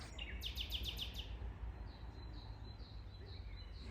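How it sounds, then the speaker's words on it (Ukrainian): A rapid series of high chirps, then scattered thin bird calls over a low steady background hum, fairly faint and distant, at Ostrog Monastery in Montenegro. "Неймовірно, як співають пташки"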